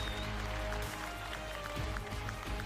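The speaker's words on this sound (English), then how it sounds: "Ladies and gentlemen in the venue, can we give these 2 teams a round of applause" Applause from a crowd at a Call of Duty WWII esports grand final between Luminosity and Team Kaliber, a steady wash of clapping and cheering that fills the whole stretch at an even level.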